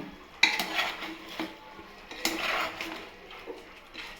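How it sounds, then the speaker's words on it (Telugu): Food being mixed in a cooking pot, with a utensil scraping and clattering against the metal in irregular strokes, close and moderately loud, with no talking. "తర్వాత బాగా మిక్స్డ్ బాగా అంతా కలుపుకుందాం"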